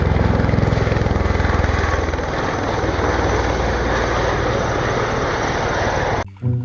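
Toy fighter helicopter gives a steady, loud whirring rotor drone that holds evenly for about six seconds, then cuts off abruptly near the end.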